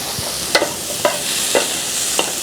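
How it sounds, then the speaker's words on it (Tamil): Chopped pineapple pieces stirred in a hot frying pan, with a steady sizzle underneath and four or five short scraping spoon strokes spaced about half a second apart, close and moderately loud. "பைனாப்பிளை சின்ன சின்னதாக வெட்டியிருக்கேன், அதை அப்படியே ஆட் பண்ணிக்கோங்க."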